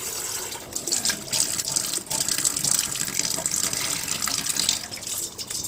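Tap water runs steadily into a sink while an electric kettle is rinsed and washed after descaling, a constant close splashing stream with small changes as the kettle moves under it.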